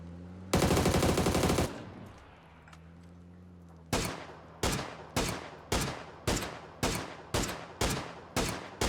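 Video game gunfire aimed at a vehicle's tire, opening with a loud sustained automatic burst, then after a short lull a series of about ten evenly spaced single sharp shots, each fading quickly.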